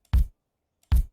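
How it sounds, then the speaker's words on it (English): Two punchy acoustic kick drum hits, evenly spaced about a second apart, each a short, dry thump with a brief attack and quick decay, played alone with silence between. "and also this acoustic kick,"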